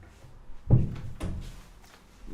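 A door shuts with a dull thunk, followed by a couple of softer knocks and rattles as it settles, close by in a quiet room with no talk.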